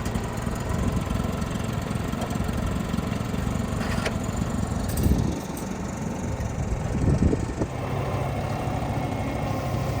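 A 1989 Chevy truck engine idles after a cold start, a steady, loud, rumbling drone with a couple of brief surges in revs.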